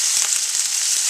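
Spam and sauerkraut sizzle loudly in a frying pan for a hotdog topping. The frying is a bright, constant hiss close up, with a few soft pops and stirring clicks.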